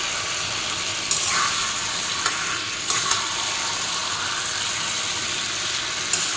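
Vegetables fry and sizzle steadily in oil in a pan for a Bengali pumpkin and eggplant dish, with a few sharp scrapes and clicks of stirring at intervals over the continuous hiss.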